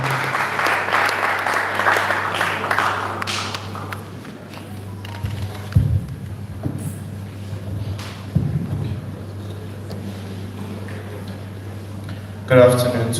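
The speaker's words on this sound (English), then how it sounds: "Please, a round of applause for him." Audience at a Nigerian medical students' association meeting opening ceremony claps for the NIMSA Vice President External, a dense round of applause at first that quickly thins, leaving a steady hum with a few scattered claps and thumps.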